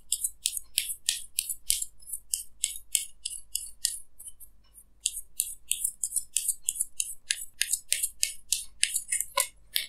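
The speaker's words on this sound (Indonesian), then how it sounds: "Oke, sorry, kartunya jatuh." Tarot cards drop and scatter during a reading, giving a long run of light, crisp clicks and slaps close by, some quick and clustered, with a short quiet gap partway through.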